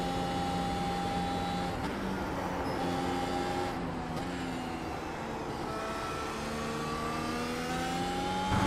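Race car in the iRacing video game entering the pit lane at Suzuka, a continuous engine whine with gliding tones that fall as it brakes, steady and loud throughout.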